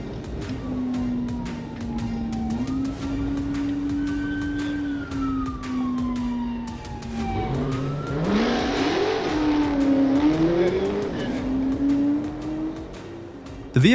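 Black Dodge Charger accelerating away from a police pursuit, its engine note climbing in pitch and surging louder midway through, with a wailing siren sweeping steadily underneath throughout.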